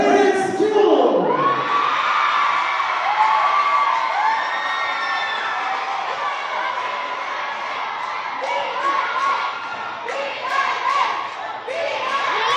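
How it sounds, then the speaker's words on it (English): A crowd cheers, whoops and shouts loudly after a school performance is announced in a contest, with children's voices mixed into the sustained roar and no clear clapping. "Ladies and gentlemen, a round of applause."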